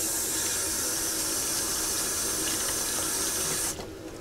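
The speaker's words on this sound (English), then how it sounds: "I'm just gonna put it in a little thing full of hot water and just give it a little wash" Keg part being washed in hot water, a steady rushing splash of running water that cuts off near the end, leaving a quieter trickle.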